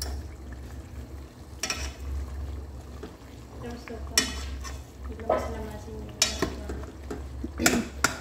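Curry leaves hit a hot pan during biryani cooking, giving a steady sizzle with scraping stir strokes and utensil clinks against the pan, while a voice talks over it.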